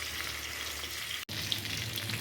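Fish fries in hot oil with a steady, fairly faint hiss and sizzle and a few small pops, broken by a brief dropout in the middle, with no one talking.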